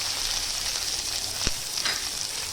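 A handful of onion drops into hot oil with softened garlic in a pan, setting off a steady bright sizzle that swells with a burst at the moment it lands, then keeps frying evenly with no talking.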